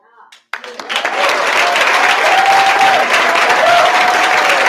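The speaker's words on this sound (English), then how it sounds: "That was beautiful. Applause, applause, applause." A studio audience breaks into sustained, loud applause after a song, a dense wash of clapping that swells quickly and holds steady, with a voice speaking over it.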